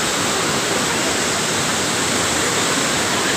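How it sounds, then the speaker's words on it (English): Kynrem waterfall in Cherrapunji, Meghalaya roars as a loud, steady, broadband rush of falling water, constant and close with no break. "Beautiful water is going down."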